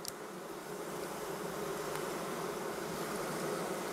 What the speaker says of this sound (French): Bernhard éloigne ses abeilles des rayons avant la récolte.